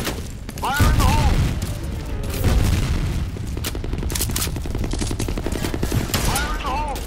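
Counter-Strike capture-the-flag match with a grenade explosion booming close by amid steady rapid gunfire, a second blast following later, and voices talking over the action.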